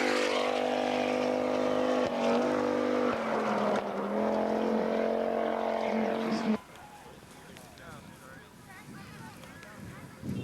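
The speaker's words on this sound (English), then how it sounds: "Frank and Daniel Sprongl in the Audi Coupe Quattro." Audi Coupe Quattro rally car on a 1989 Rally of the Tall Pines stage: a loud, droning engine that holds and shifts pitch, then cuts abruptly to quieter rumbling noise.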